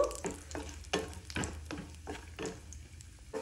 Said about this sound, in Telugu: ఇలా మీకు ఏ డ్రై ఫ్రూట్స్ ఇష్టమైతే అవన్నీ ఇలా నెయ్యిలో వేసుకుని వేయించుకొని వేసుకోవచ్చు